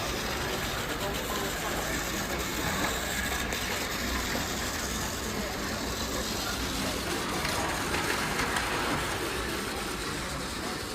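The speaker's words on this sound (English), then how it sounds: "I just wanted to show this clip because I still think trains, both real and toy variations, are really cool." A train rolls past in Japan, a steady, continuous rumble and broadband rush holding at an even level for about eleven seconds with no clear approach or fade.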